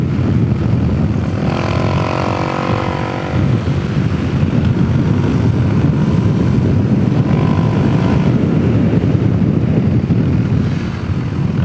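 A Suzuki DRZ 470 SM motorcycle rides on country roads, its engine droning loud and steady throughout with gentle rises in revs, overlaid by heavy wind rush.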